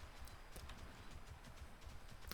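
Hooves of a fell steed mount from World of Warcraft: Wrath of the Lich King, a steady clip-clop beat of close, moderately loud footfalls repeating evenly throughout.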